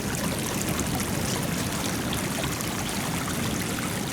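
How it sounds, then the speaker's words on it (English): Ocean salt water rushes like a rapid into flooded flats in Hawaii, a steady, loud, close roar of churning water with no breaks. "Okay, it's not really a waterfall, more like a rapid."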